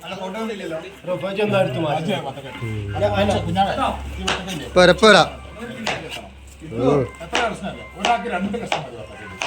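Vegetables being chopped with a knife during iftar meal preparation in a home kitchen, a run of quick, sharp cuts with louder knocks midway, heard beneath near-constant conversation and a low steady hum.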